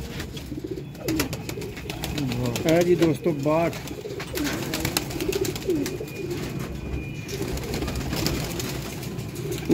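Pigeons coo softly in a row of birds being shown for sale, with repeated low burbling calls under someone talking throughout, close and moderately loud.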